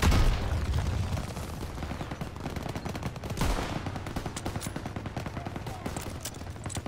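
Rapid machine-gun bursts and single shots fire at an MG42 nest in a WWII Normandy video game, sharp and loud, with a heavier blast midway and rattling fire continuing after.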